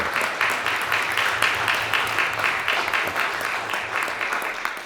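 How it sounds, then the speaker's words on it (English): A salon discussion audience breaks into steady, even applause, a dense wash of many hands clapping at a close-to-moderate distance for the whole stretch. "let's give you a round of applause"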